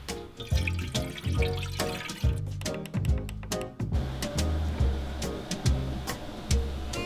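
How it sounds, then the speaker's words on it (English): Water runs from a tap into the base of an air fryer in a home kitchen, a splashing, gurgling stream with repeated surges and small drips, fairly quiet and close. "I set my air fryer to 250 degrees and filled the bottom with water"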